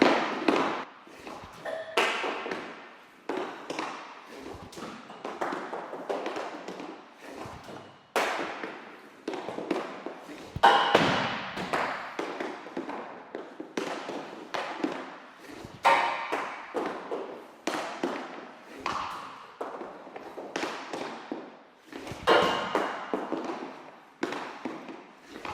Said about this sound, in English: Let's take some wrist shots, see how it performs.